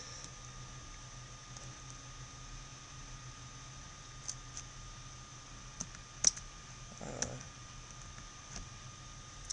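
Soft, sparse computer keyboard key clicks, scattered irregular taps with a few sharper presses, close but quiet over a steady fan-like background hiss.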